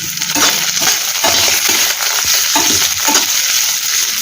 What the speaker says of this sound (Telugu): ఇంగు పొలం కూడా ఈ పోపులో వేసేస్తున్నాం వాటి మనం తరిగి పెట్టుకున్న అల్లం పచ్చిమిర్చి కరివేపాకు ఇందులో వేసేస్తాం